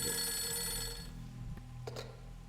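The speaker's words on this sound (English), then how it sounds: "Phone decided to ring." A telephone rings in the video game Fatal Frame 3, a sustained electronic trill that cuts off partway, followed by a couple of faint clicks in a quiet room.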